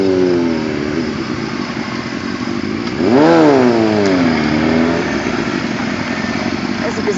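A motorcycle engine idles steadily, then revs up hard once near the middle with a rising and falling whine before settling back to a low idle, fairly close and loud.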